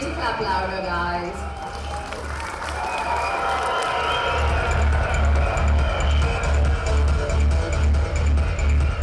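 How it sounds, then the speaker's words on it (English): Audience applause and cheering at the Miss Asia 2015 pageant after the first runner-up, contestant from the Philippines, is announced, loud and sustained, with crowd noise and a rhythmic low pulse of music underneath and a voice speaking over it. "I know you need to clap louder, guys."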